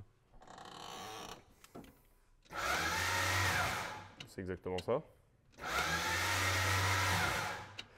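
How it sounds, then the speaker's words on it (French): A car's starter motor cranks the engine and spins very freely, heard as two long, loud whirring bursts separated by a pause with brief speech and clattering. "le démarreur il tourne dans le vent carrément tellement il tourne"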